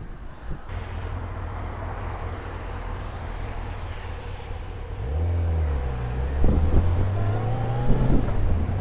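A Kawasaki ZZR 600 motorcycle engine, running again once the fuel tap is turned back on, idles roughly close by under wind noise, then revs up in rising bursts.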